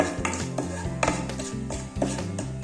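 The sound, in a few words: stirring turmeric into mango pickle mixture in pan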